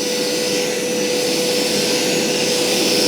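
A Hoover Power Scrub Deluxe carpet cleaner running its suction, a loud, steady whining roar with a constant high tone, close and uninterrupted throughout.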